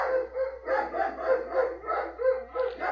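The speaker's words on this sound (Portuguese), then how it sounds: "Auro, Lucão, os cachorros aí." Dogs barking in a repeated, steady rhythm of yaps and barks at moderate distance, with no speech over them.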